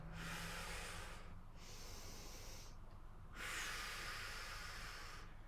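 Long, forceful exhales during a Pilates leg-lowering core exercise, three breathy hisses separated by brief pauses, close and soft with no talking.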